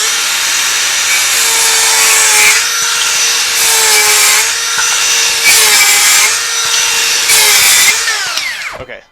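A Dewalt circular saw with a 7.25 inch blade cutting wood in several passes, loud and close, its high whine dipping under load on each cut before spinning down at the end.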